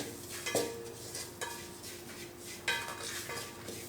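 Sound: stirring asafoetida powder in a pan over low flame

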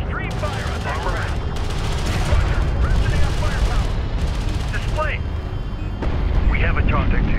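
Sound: weapons fire from video game Homeworld: Deserts of Kharak

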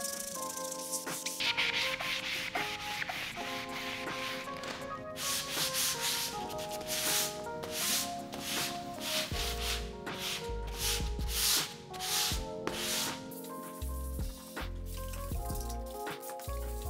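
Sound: hand sanding painted stairs with sanding block

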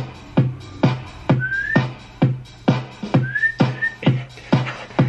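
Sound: person whistling a tune

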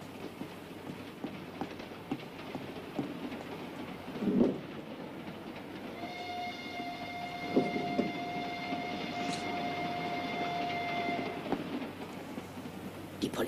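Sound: train running

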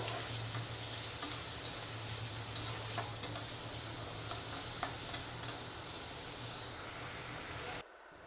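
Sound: chopped onions frying in a pan

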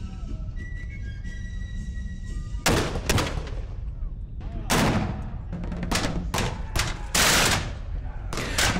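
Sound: artillery fire in battle

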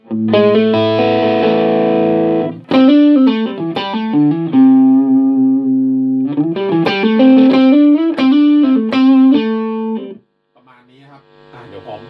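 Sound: electric guitar through Roland Blues Cube amp, dual tone clean and distortion

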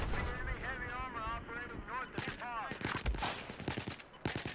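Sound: machine gun fire in the video game Battlefield 4

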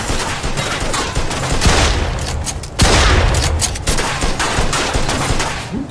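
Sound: gunfire in the Mafia II video game

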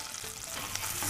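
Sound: garlic and ginger frying in butter for sweet corn soup

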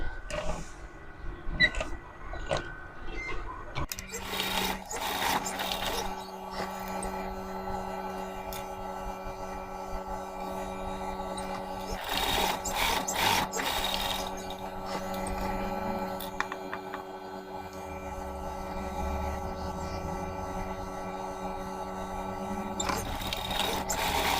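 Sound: sewing machine stitching a DIY wallet

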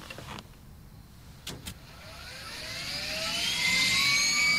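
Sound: helicopter engine in a video game

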